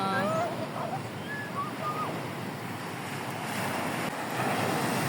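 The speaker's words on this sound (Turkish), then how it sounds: "Çok dalgalı deniz ya." Rough, cold sea waves surge and wash continuously on a beach with wind buffeting the microphone; a faint voice and distant whistles sit under the steady roar.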